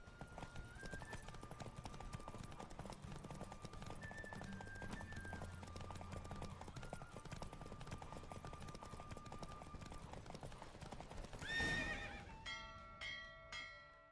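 Rapid hoofbeats of a galloping horse clatter continuously under game music in a horse race in The Witcher 3, followed by a loud whinny and ringing bells near the end.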